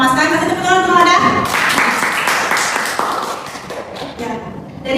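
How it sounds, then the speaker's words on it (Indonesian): Classroom applause for a student breaks out after a teacher's voice, a burst of many hands clapping that holds for a few seconds and then thins into scattered claps. "Kasih tepuk tangan untuk Mama Ada."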